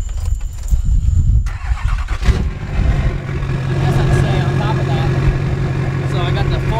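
Duramax diesel pickup truck with an aftermarket exhaust and upgraded injectors cranks over and fires, then settles into a steady, loud, rumbling idle that runs continuously close to the microphone.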